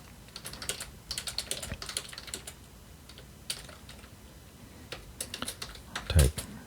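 Typing on a computer keyboard: bursts of quick, light keystroke clicks with short pauses between them, fairly close and clear, and someone speaking quietly over parts of it.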